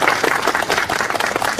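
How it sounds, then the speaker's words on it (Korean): An audience at a literary award ceremony applauds, with dense, even clapping from a roomful of people, loud and close, lasting under two seconds. "박수 좀 부탁드리겠습니다"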